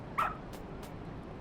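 A single short, quiet dog bark or yip from a dog in the game Lost Judgment, brief and alone over a low background hum.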